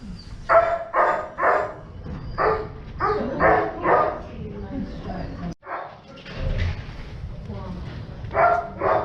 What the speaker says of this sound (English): What sort of dog is that?